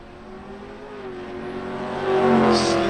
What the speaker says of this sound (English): Slight starting line advantage there in the left lane for Baker